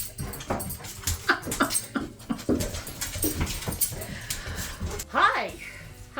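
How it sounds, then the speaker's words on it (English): Dogs whimpering and panting close by as they circle a table, with rapid breathy pants and high whines, one rising yelp near the end, while a person talks over them. "the dogs are circling the table"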